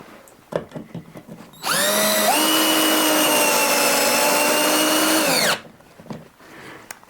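Power drill driving deck screws while mounting a ceiling light, a single loud whirring run of about four seconds that slows slightly at the end, with quiet handling noise before and after.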